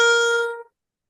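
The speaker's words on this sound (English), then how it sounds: "And I have a little pitch pipe here." A single pitch pipe note, a clear, steady reedy tone with bright overtones that sounds alone for about half a second and then cuts off into silence.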